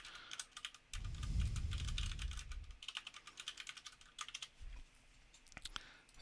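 Fingers tap quickly on a computer keyboard while text is edited, soft clicking keystrokes in uneven bursts, quiet and close, with a low thump and a brief rustle mixed in.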